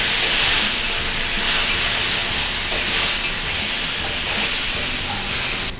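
Onion paste fries in hot oil with cumin seeds, giving a loud, steady, close hiss of sizzling that holds evenly throughout, with no voices.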